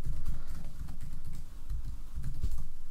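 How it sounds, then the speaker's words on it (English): A password typed on a computer keyboard, a steady run of soft close key clicks with brief pauses, alone without talk. "type out our password"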